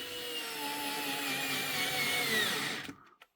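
A cordless screwdriver drives a 30 mm self-tapping screw into pine, giving a steady close whining motor hum for almost three seconds before it stops abruptly.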